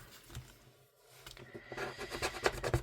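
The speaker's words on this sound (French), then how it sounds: "Je vais gratter là." Close scratching and rubbing, quiet at first and then building into a rapid run of rasping strokes in the second half, with no talking.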